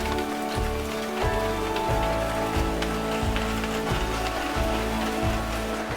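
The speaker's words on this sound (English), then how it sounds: "you probably hear the rain, not fantastic" Rain falling outside a church building, a steady dense patter on surfaces with a low rhythmic thumping underneath, continuous and fairly close.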